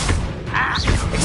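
Spell effects from a Harry Potter video game: loud, dense magical whooshes and bursts with a rising swirling tone in the middle, layered over a constant rumbling bed, all packed into about a second.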